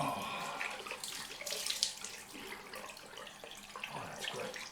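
Cold tap water running into a sink for a rinse after a straight-razor shave, a continuous close splashing hiss with slight surges as hands move through the stream.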